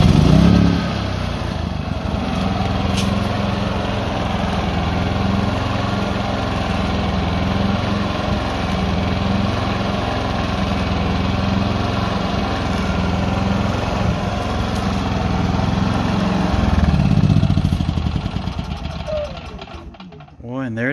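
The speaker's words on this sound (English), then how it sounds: "So I'm going to go ahead and run the generator, and you'll hear that it runs" A propane-powered portable generator, converted to run on trailer propane, runs steadily close by with a continuous buzzing engine drone that holds even for about twenty seconds before tailing off.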